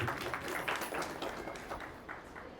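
An audience claps together at a birthday and Raksha Bandhan celebration at Silence World, a moderately faint patter of many hands that starts strong and gradually thins out.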